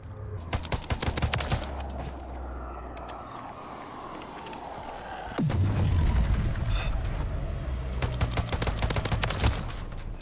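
Gunfire in Modern Warfare 3 with a DM56 marksman rifle setup, sharp shots rattling in quick bursts and scattered single cracks, plus a heavy boom midway, over a constant battlefield rumble.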